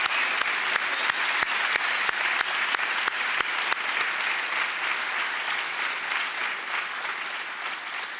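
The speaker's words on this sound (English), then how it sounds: "So a big round of applause to An Van Dam, programs team, Sue Martin, and the alumni team." Audience applause at an MBA graduation ceremony: a full, sustained round of clapping from a large hall, with a few sharp individual claps standing out early before it slowly tapers off.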